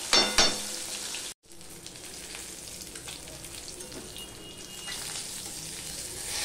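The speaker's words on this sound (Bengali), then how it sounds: "এবার আর এখানে 4 পিস মাছ আছে, সেটাও আমি ভেজে নেবো।" Pieces of fish frying in hot oil in a pan, a loud continuous sizzle and crackle with a brief bright spatter at the start, no talking.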